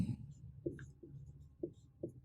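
A pen writing out a math equation, soft close scratches and a few distinct taps as strokes land, quiet with no talk.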